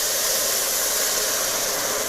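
Water splashed into a hot pan of browning onions sends up a loud, steady, close hiss of steam that holds at full strength the whole time with no talk.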